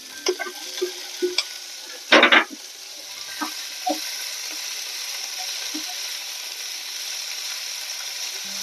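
Tomatoes and crunchy winter vegetables frying together in a pan for pasta, with a continuous sizzle broken by a loud scraping stir and scattered clinks of the utensil early on.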